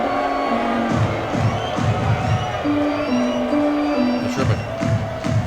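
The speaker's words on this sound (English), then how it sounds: "There's a huge fan reaction" A baseball crowd at a Memphis versus Charlotte Knights minor-league game roars and cheers after a fan catches a foul ball, a sustained noisy swell under organ-like stadium tones.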